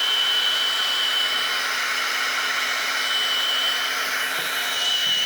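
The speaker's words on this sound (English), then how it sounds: "I got the drill on low gear so it turns slow" A drill set to low gear spins slowly to prime the oil pump on a 302 roller cam engine build, giving a constant, loud mechanical whine with a steady tone that runs unbroken throughout, with no talking.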